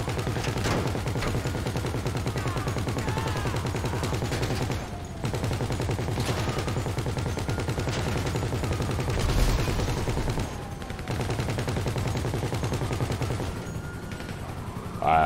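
Sustained gunfire rattles in GTA V Online, dense rapid bursts running almost continuously with a few brief pauses between volleys.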